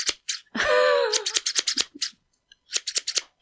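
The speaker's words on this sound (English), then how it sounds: "Just scissors." Scissors snip repeatedly up close in quick bursts of sharp cuts, broken by a short rising whine and a brief pause before a final run of snips.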